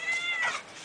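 A cat gives a short meow, close and fairly loud, with nobody talking over it.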